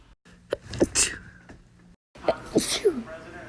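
A person sneezes repeatedly in quick succession, a run of sharp, close bursts with short breaths between them, loud and alone.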